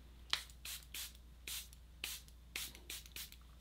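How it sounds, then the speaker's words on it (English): Charlotte Tilbury Airbrush Flawless setting spray is misted in about eight short, quick pumps, each a soft close hiss spaced roughly evenly over a few seconds. "I'm going to spray with the Airbrush Flawless Setting Spray from Charlotte Tilbury."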